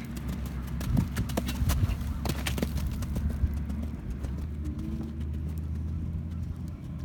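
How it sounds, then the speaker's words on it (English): Horse hooves clip-clop in a steady rhythm during a bridleless cross-country schooling warm-up, with a car engine humming underneath and a few faint voices nearby. "Gotta slow that horse down."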